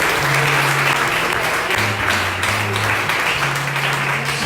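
A church congregation applauds together, a dense, steady wash of clapping that fills the whole stretch, with a low sustained musical drone running underneath.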